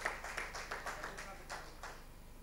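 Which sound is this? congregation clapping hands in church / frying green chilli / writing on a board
congregation clapping hands in church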